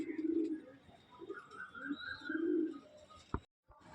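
Giribaz pigeons cooing in a home loft, with several soft, low, rolling coos at close range, some faint chirps and a sharp click near the end, quiet overall with no talk.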